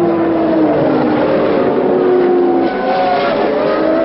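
A 1,500-pound USAC/CART race car at Brands Hatch in 1978 speeds past a crowd, its engine a loud, sustained howl sliding down in pitch as it passes close by, then fading slightly.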